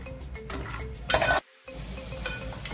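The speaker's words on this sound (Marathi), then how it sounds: "इथे हे मी बदामाचे काप करून घेतले, हे खरपूस होईपर्यंत परतवून घेते।" Sliced almonds frying in ghee in a pan on the stove for vermicelli kheer, a close steady sizzle and scraping of a stirring spoon, a louder burst of frying, then a brief silence before the sizzling resumes.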